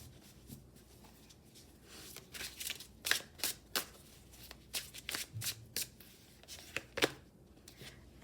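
Tarot cards are shuffled by hand in quick papery riffles and flicks. The bursts come in an uneven rhythm, close and fairly quiet, with no voices over them.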